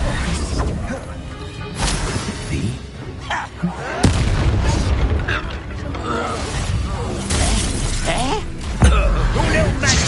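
In the Hogwarts Legacy video game, an Incendio fire spell bursts in a fight with several booming, crashing blasts. Voices speak over the combat.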